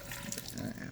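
Tap water runs steadily into a sink during a household chemistry experiment, a soft continuous splashing hiss at low level for about a second, with faint background voices.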